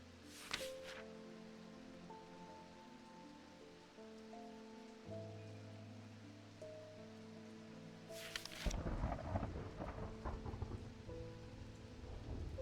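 Rain and thunder from a video game, with a steady rain wash over a soft tonal background, two brief bright crackling bursts like distant thunder cracks, then heavier, louder rain and rumble taking over near the end.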